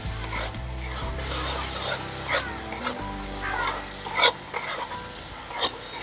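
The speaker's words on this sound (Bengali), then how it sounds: "মশলাটাকে এখন ভালো করে কষিয়ে নেব।" Salt, turmeric and ground cumin stirred and fried in a pan, with steady sizzling under repeated scraping strokes of a spoon against the pan, close and fairly loud with no talking.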